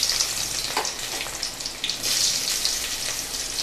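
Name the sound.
mustard seeds and shallots tempering in hot oil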